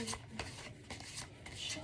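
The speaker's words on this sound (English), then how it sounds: "And give the cards a little shuffle." Playing cards riffled and shuffled by hand at close range, a few brisk bursts of papery flutter with short pauses between, loud and alone.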